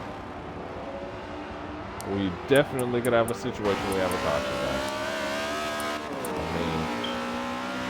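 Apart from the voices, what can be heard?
race cars driving in the Wreckfest video game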